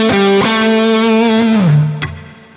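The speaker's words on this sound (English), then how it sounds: "So that was the maximum distortion, controlled here by your own volume control." Electric guitar on the bridge pickup at maximum distortion, volume set by the guitar's own control: a loud, sustained, fuzzy chord that bends down in pitch and is then cut off, with a picked accent near the end.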